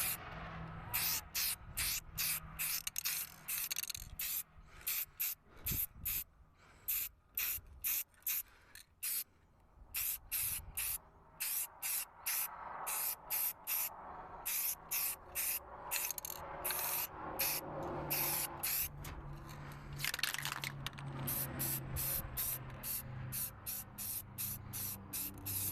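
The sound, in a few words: spray painting plastic truck grill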